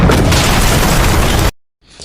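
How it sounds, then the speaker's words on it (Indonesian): A loud, dense blast from a movie as a fuel tank hit by a stray gunshot explodes, roaring for about a second and a half before cutting off abruptly, followed by a faint airy tail. "tembakan Num yang meleset mengenai tangki bahan bakar dan meledakkan tempat itu."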